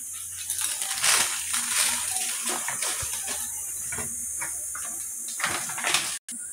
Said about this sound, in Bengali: কড়াতে একটু সরষের তেল দিয়ে দিলাম, একটি শুকনো লঙ্কা দিলাম ফোড়নে, 5 ফোড়ন দিয়ে দিলাম